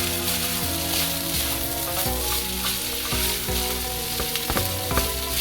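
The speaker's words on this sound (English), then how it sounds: "So you're going to fry it in the butter until it starts turning a little bit golden brown." Rice fried in butter sizzles and crackles steadily in a hot pan, with occasional stirring scrapes and clicks.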